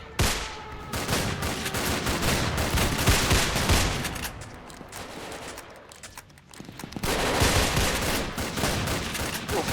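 Dense, continuous gunfire from an aerial battle in the Roblox game Zeppelin War, a loud sustained fusillade of rapid shots with a brief lull near the middle before the firing swells again.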